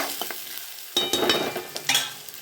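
Onion and sesame seeds frying in a pan for a Gujarati methi gatta curry, with a soft sizzle that jumps louder as the onion goes in, then several scraping stirs close by.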